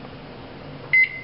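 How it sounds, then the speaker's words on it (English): A microwave oven warming a croissant hums softly and steadily, then gives one short, clear electronic beep near the end. "give it about 25 seconds in the microwave"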